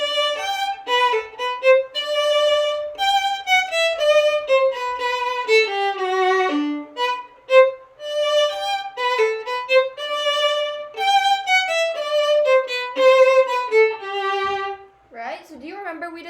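A solo violin plays a flowing melody of sustained, vibrato-rich notes rising and falling, ending with a brief wavering slide.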